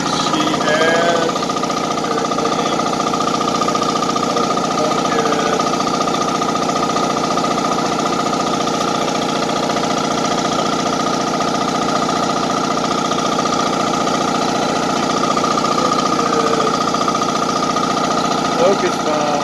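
A quiet air compressor runs steadily with an even, unbroken hum throughout, close by, while a voice talks over it at times.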